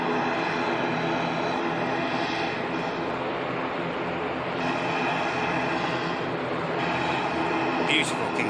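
A Boeing 747 taxis at Manchester Airport, its engines giving a steady, distant jet roar and whine that holds level throughout. Brief higher tones come in near the end.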